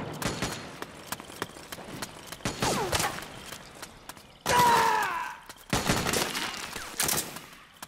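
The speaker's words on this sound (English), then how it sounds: "Suppressing fire!" Suppressing gunfire in the video game Metal Gear Solid 4, dense rapid automatic bursts and sharp single shots, loud and close, with a long sustained roaring stretch in the middle.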